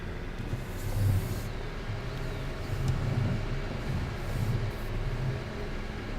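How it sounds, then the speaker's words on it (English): A cement truck rumbles by in Farming Simulator 19, a steady low engine drone swelling slightly as it nears and passes, with a faint airy hiss above and no talking. "We'll wait for the cement truck to go past."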